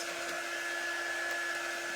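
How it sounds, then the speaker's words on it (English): A handheld hair dryer runs over damp parchment during a heat-press craft project, giving a close, steady blowing rush with a constant whining hum and no talking. "I am gonna just run my dryer over it for seconds"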